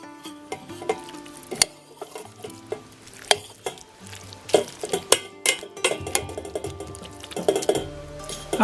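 Lentils cooking in a warm pot are stirred, with repeated spoon scrapes, clinks against the pot and a soft sizzle, close and fairly loud in irregular bursts.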